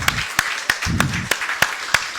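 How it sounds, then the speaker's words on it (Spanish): Church congregation clapping in a steady rhythm, sharp claps landing about three times a second, fairly close, with a faint murmur of voices between beats. "Rindamos un aplauso al Señor,"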